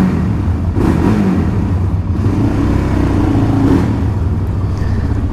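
Quad bike engine running steadily with a rough, continuous mechanical drone and a slight rise in pitch near the start and again toward the end, close and loud, with no talking.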